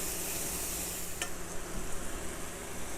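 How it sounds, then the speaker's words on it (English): Minced garlic sizzles steadily in a hot pan with cube steak vegetables, a bright, continuous frying hiss, quiet and close, with a brief stir partway through. "I'm just gonna cook that garlic for about 30 seconds."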